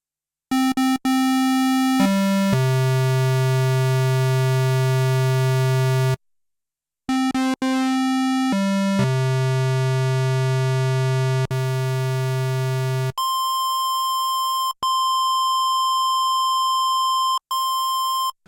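Buzzy square-wave synthesizer tones from a vintage or modern Sequential synth hold steady at several different pitches, separated by short gaps and abrupt switches, ending on a higher sustained note.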